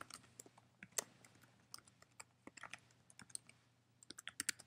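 Rapid, quiet clicking of computer keyboard keys in irregular bursts, close and alone, with a faint steady hum underneath.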